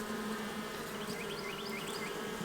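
Honey bees buzzing inside a crowded hive, a dense steady hum with individual bees whining past close by.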